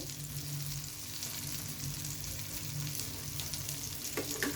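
Pieces of halwa (pomfret) fish fry in an uncovered pan, giving a continuous crackling sizzle with a low steady hiss throughout and a brief sharper clatter near the end.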